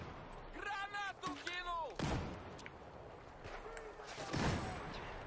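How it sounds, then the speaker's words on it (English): In the Battlefield 4 video game, sharp, heavy blasts of a grenade explosion and gunfire crack out twice amid the action, with someone talking excitedly over the noise. "My grenade got a hit marker."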